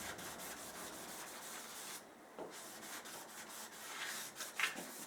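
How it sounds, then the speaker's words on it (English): Wet sanding of paint on a 1929 Chrysler gives soft, rhythmic rubbing strokes with a brief pause midway, quiet and close, with no talk. "Just kind of sanding in general, because I know I had overspray right in this area."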